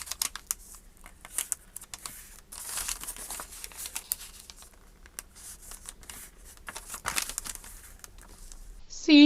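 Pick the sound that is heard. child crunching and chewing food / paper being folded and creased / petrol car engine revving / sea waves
paper being folded and creased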